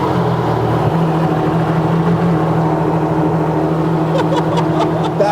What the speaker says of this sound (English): Is that the loudest car you've ever heard?